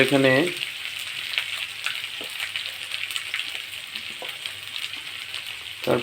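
Ginger paste made from ground local ginger frying in a pan for a soybean curry, a steady soft sizzle throughout with a few faint clicks of a spoon, and a brief voice at the start.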